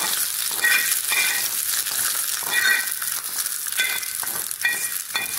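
Green chillies and curry leaves sizzle and crackle in hot oil for a Kerala vellarikka pachadi tempering, a steady close frying hiss with bursts of popping and stirring throughout, no voices.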